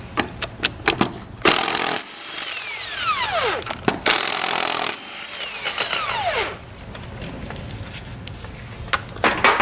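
Impact gun spinning lug nuts off a trailer wheel on a Dexter hub and drum for a 3,500-lb axle, heard as several loud, whirring bursts of a few seconds each, separated by short pauses and clicks.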